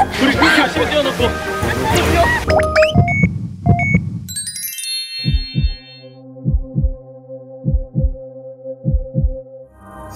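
A heartbeat sound effect during a Korean dating show about racing hearts: a steady lub-dub pulse thumps on its own in the second half, after a burst of excited talk and chimes at the start.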